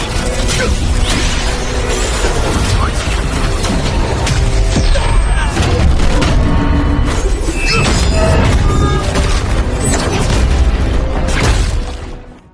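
Explosion in the animated series Journey To Immortality, a loud sustained roar of booms, crashing debris and bursts rolling on for about twelve seconds before fading out.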